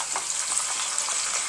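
Jengkol beans fry in hot oil with a steady, dense crackling sizzle, close by and continuous, with faint stirring.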